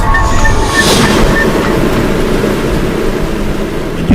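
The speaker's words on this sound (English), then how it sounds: "a sprawling maze of tunnels, filled with clanking robots and little trains, reaching speeds of 60 kilometers an hour" A continuous rumbling, clattering roar of the tunnel system beneath Heathrow, where robots and little baggage trains run at up to 60 km/h, steady and loud throughout with faint metallic tones.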